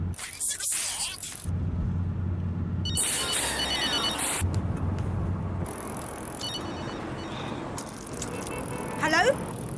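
Telephone ringing in a hospital drama scene, repeated electronic ring bursts alternating with pauses, loud and near, with busy background sound between rings.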